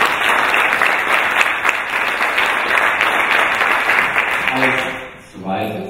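A seated crowd at a group event applauds loudly and steadily for the standing table chip winners, the dense clapping fading briefly near the end before voices and a fresh burst of sound return.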